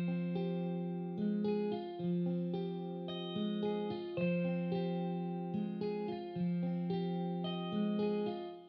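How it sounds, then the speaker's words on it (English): Dark guitar sample built in FL Studio with the long duo preset and plate reverb: a steady, repeating pattern of plucked, sustained notes with lingering reverberant tails, played alone with no voices. "this is the guitar. I went with the long duo preset right here"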